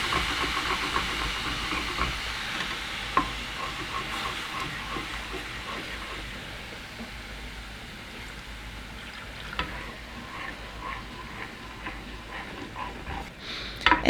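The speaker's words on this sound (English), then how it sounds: "I'm going to put in 1 cup of beef stock and scrape that from the bottom of the pan." Beef stock hissing and simmering as it hits a hot pan while the bottom gets scraped, a steady close steam hiss with occasional scraping clicks and taps.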